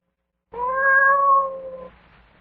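A single drawn-out cat meow in an old radio drama, clear and close, holding steady for over a second before fading into quiet.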